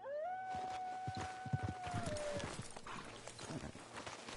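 Horse hooves clip-clop steadily in a video game, close and rhythmic, opening with a drawn-out whinny.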